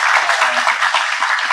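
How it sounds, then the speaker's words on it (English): An audience at a talk on Indian language technology gives a short, full burst of clapping, even and steady across the hall. "I really want to have one more round of applause for a speaker for a wonderful talk"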